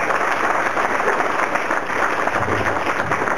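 Steady audience applause fills a public people's assembly in Goa, a dense continuous wash of many hands clapping at even loudness throughout, with no voices standing out.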